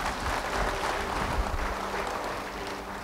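A church crowd applauds steadily with dense, continuous clapping that holds at an even level from start to finish.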